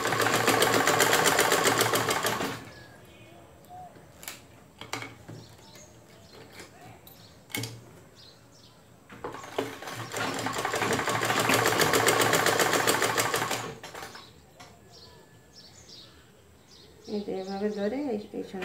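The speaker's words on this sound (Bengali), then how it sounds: "এইভাবে একটু সেলাই করে নিয়ে আসতে হবে" A sewing machine stitching a cushion cover with a zip runs in two steady, loud whirring stretches, with quieter handling noises in between and someone talking over the work.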